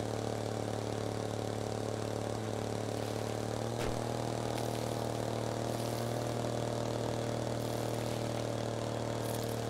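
A player-built car's engine in the game Trailmakers, driving: a steady droning hum with strong low tones and a constant mechanical whir, unchanging and continuous throughout.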